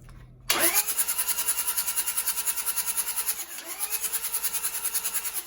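A Toyota 1PZ diesel engine cranks and catches on a cold start, then settles into a loud, rough, evenly pulsing idle close by, with a clattery diesel knock running throughout.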